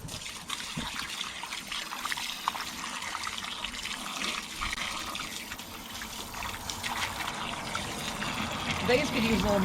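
Water runs from a household tap in a continuous rushing trickle, fairly close and steady, swelling slightly toward the end.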